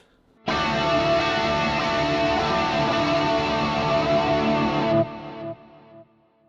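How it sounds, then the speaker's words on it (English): A sustained distorted electric guitar chord through a Fractal FM9/FM3 chorus block rings out with a shimmering, swirling chorus texture, then cuts off and fades in a few stepped decays. "now let's turn on the chorus block"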